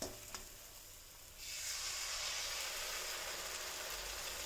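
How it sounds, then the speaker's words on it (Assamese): Tomato paste hits a hot pan while masala paneer cooks, bursting into a steady, close sizzle that starts abruptly after a quiet moment and keeps hissing evenly to the end. "এতিয়া বিলাহী পেষ্টখিনি ইয়াতে ঢালি দিছোঁ।"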